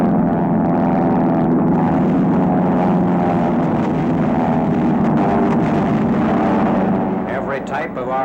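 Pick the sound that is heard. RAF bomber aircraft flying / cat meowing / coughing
RAF bomber aircraft flying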